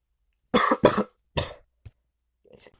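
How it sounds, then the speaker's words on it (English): Close, dry coughing from one person: two strong coughs back to back, then a weaker third and a small catch, ending with a faint throat-clearing rasp. "Need to cough again"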